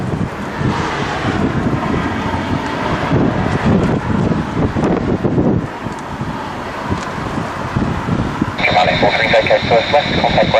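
Compass Air Cargo Boeing 747-400 freighter on final approach and landing at London, a loud, continuous engine roar mixed with wind buffeting, with air traffic radio talk heard over it throughout.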